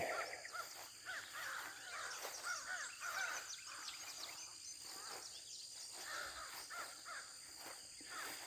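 Several crows caw back and forth close by near their nest, loud rasping calls scattered through the clip over a hum of insects and other chirping birds.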